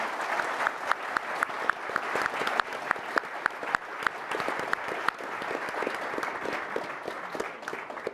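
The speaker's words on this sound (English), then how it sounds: "So could I please get a round of applause for our panelists?" An audience gives a sustained round of applause for panelists at a Bitcoin technology conference. Dense, steady clapping fills the room throughout, moderately distant, with a faint voice underneath.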